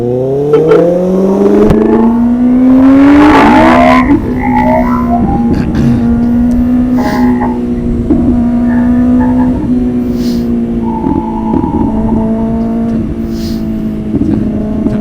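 A motorcycle engine runs while being ridden, rising steeply as it revs and accelerates, then settling into a loud steady drone with small pitch shifts from throttle changes.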